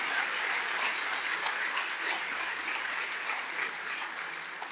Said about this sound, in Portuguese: Isso merece aplauso.